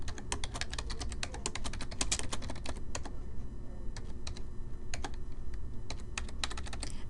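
Steady, rapid typing on a computer keyboard with quick irregular key clicks and occasional louder strokes as data is entered cell by cell, close and clear with no talking.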